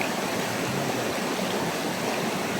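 A mountain creek flows steadily with a close, continuous rush of water, an even broadband wash and no pauses or voices.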